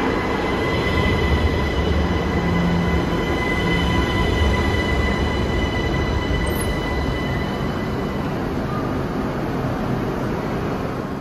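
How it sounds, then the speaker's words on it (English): A Raaberbahn train pulls into Vienna's main station, with a loud, continuous rumble of wheels on rails and faint squealing throughout, no voices. "now we can take a look at the arrival of my train today in the main station of Vienna"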